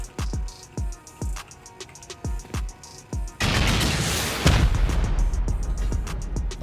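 Rockets fired at a base turret in a survival video game: a string of sharp, regular launch thumps about every half second, then a long loud roaring blast that fills the rest.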